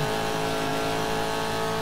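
A 1966 Trans Am race car in the GTR2 racing game roars steadily at high revs along a straight at Sebring, a loud continuous engine drone with rich harmonics and no pauses.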